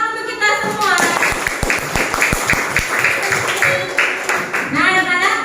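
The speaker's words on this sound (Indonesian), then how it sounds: "Tepuk tangan untuk kita semua." Children in a classroom clap together in a short burst of scattered applause, with voices of teacher and pupils around it and over it.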